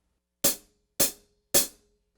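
Cymbal edge hit with the shoulder of a drumstick, three evenly spaced washy crashes with a fuller, brighter attack, each fading quickly, with nothing else heard.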